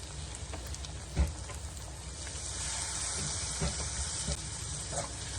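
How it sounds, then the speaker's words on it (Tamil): Chopped garlic and onion sauté in butter in a pan, giving a steady close sizzle and hiss with a few sharper pops and crackles throughout. "இப்போ ரெண்டையும் நல்லா வதக்கி எடுத்துக்கலாம்."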